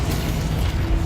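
A Confringo fire spell explodes in Hogwarts Legacy, a deep booming blast with a low rumbling burst that fills the brief moment, close and heavy.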